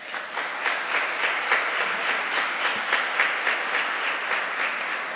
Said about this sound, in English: let's have a big round of applause for this wonderful, beautiful confirmation class